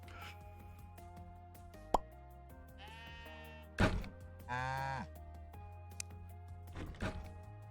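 Two short, bleating cartoon moos from a cow in the video game Necesse, heard over soft, steady game music with a few plops and clicks.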